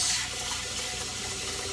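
Tap water runs steadily into a bowl being filled to soak ground deer meat, a constant close hiss and splash with no talk.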